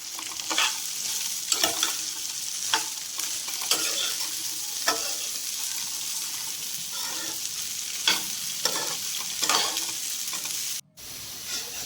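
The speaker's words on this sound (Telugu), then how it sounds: "మంచిగా ఇవన్నీ నీట్గా కలుపుకుంటూ అప్పుడప్పుడు ఫ్రై చేసుకోవాలి" Okra frying in a pan hisses with a steady, bright sizzle, broken by repeated scraping and clacking strokes as the pieces are stirred, close and continuous with no talking.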